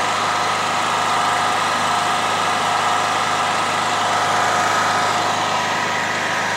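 Generator engine running steadily at second speed, a loud, constant droning hum with a fixed pitch and no change in revs, close by and with no voices.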